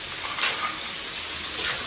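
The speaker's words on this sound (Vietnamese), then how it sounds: "xào khoảng 2 phút cho cua nó thơm" Crab pieces are stir-fried with butter, minced garlic and oil for tamarind crab, giving a dense, loud, continuous sizzle with a brief flare of stirring, close by.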